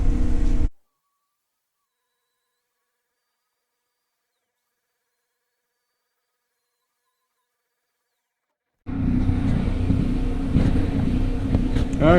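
A grinding wheel cleans up a half barrel wood stove, a steady loud grinding roar that cuts off early, leaves a long silence, then starts again and runs to the end.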